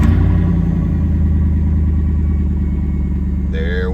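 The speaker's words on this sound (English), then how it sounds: "now we're seeing if the Ford can crank up the Chevy" A Chevy car engine, jump-started from a Ford, turns over and rumbles loudly and steadily up close, and a brief higher tone breaks in near the end.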